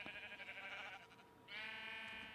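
Sheep bleating in a video game, a drawn-out nasal bleat followed by a second brighter bleat after a brief pause, close and clear with no talk.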